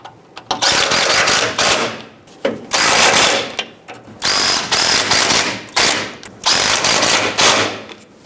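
An impact or power tool snugs up the pitman arm bolts on a 2007-2014 Chevrolet Silverado 2500 HD in loud, close bursts of rapid ratcheting whir, about six runs of one to two seconds with brief pauses between them.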